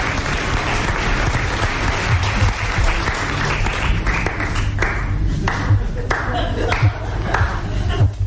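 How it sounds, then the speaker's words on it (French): A TV studio audience on a 1981 French game show breaks into sustained, full applause that fills the room evenly for several seconds, with a few louder claps and some voices rising through the din. "Applaudis-le."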